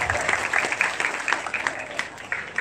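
A group clapping together in a room, a short burst of dense, even applause held at a steady level for a few seconds.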